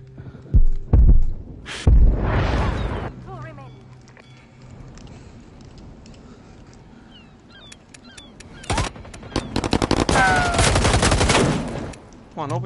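Gunfire during a competitive video game match: a few sharp, loud shots at the start, then a quieter stretch with people talking, and a denser burst of shooting toward the end.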